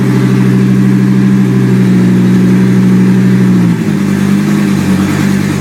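A 2004 Chevrolet Colorado 3.5-litre five-cylinder engine running on a pallet, loud and close, holding a steady high idle before dropping smoothly to a lower, even idle near the end.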